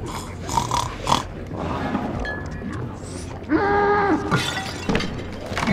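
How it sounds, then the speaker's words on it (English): Several pig-like creatures from the video game Little Nightmares grunt and snort, loud and close, in short bursts mixed with clattering noises and a brief squealing tone. "Look at them, they just sound like pigs."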